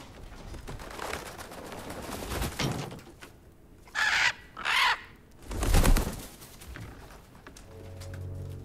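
Birds call in a few short bursts with pauses between them, mid-distance, in an outdoor scene of the God of War Ragnarok video game, with no talking.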